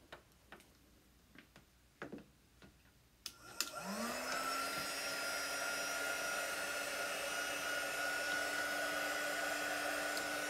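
A hair dryer switches on to dry chalk paste on a vintage truck design. A few light ticks come first, then the motor rises to a steady, droning whir that continues at an even level.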